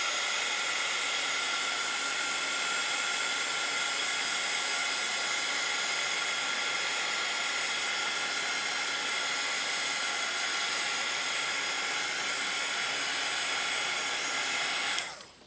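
A heat gun blows a loud, steady whoosh of hot air over layered Nuvo crystal drops for about fifteen seconds before switching off.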